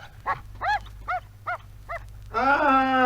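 A brave farm dog gives a series of about five sharp, evenly spaced barks close by, followed by a longer drawn-out whining howl, over a low steady rumble of a car engine in the background.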